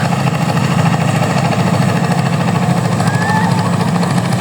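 A trawler boat engine runs steadily with a close, loud droning rumble that continues without pause, out on the water at the Ramrai Dighi recreation park.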